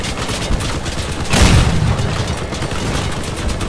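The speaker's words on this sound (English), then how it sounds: "Why is he shooting at me?" Muffled gunfire from the vehicle combat video game Crossout rattles steadily throughout, with a heavier boom burst in the middle; dense and continuous, no voices.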